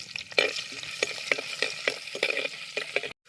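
Ginger and garlic sizzle in hot coconut oil as a spatula scrapes the pan in quick, uneven strokes, close and fairly loud, before the sound cuts off abruptly at the end.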